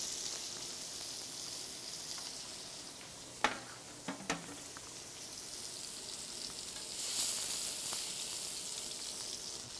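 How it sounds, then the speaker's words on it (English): A steak sears in hot canola oil in a pan, producing a soft, steady hiss with a few sharp pops and clicks, and a brief swell of sizzle near the end. "In goes our steak."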